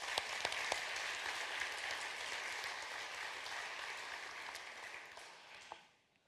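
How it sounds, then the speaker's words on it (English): A congregation at a Unitarian Universalist church service claps for a guest, a fairly quiet but dense round of applause with a few sharper individual claps, fading out toward the end. "may I invite another round of applause"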